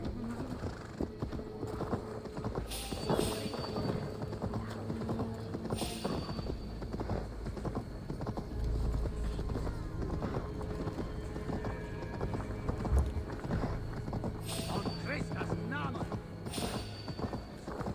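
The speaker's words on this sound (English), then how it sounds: "The horse moves so slow going through the town." Horse hooves clip-clop in a steady trotting rhythm throughout, with occasional whinnies, while a person talks over parts of it, as a horse moves slowly through a town in Assassin's Creed Valhalla.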